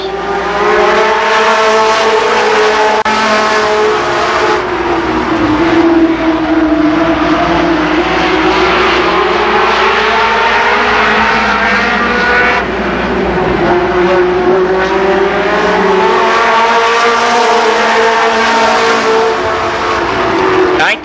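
Stock cars roaring around the oval at Columbus Motor Speedway in a late model feature, a continuous loud pack of engines droning and shifting pitch as they circle, with an announcer talking over the racing.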